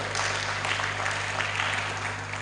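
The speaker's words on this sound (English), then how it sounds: "Let's clap for him." Delegates at a state health council meeting clap together, a steady, even wash of applause with a low electrical hum beneath it for a couple of seconds.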